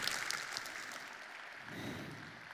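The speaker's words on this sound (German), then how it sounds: "Du kriegst auch nochmal einen kräftigen Applaus." Applause for a speaker at a VoIP conference in Rust, a broad steady patter of many clapping hands filling the room, swelling slightly toward the end.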